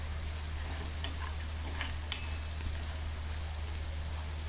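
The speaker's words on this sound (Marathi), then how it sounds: "अशाप्रमाणे हलवत हे मसाले सगळे भाजून घ्यायचे खाली लागू द्यायचे नाही" Dry spices roasting in oil in a pan for a spicy jackfruit curry, giving a steady low sizzle with a few faint scraping stirs; no voices.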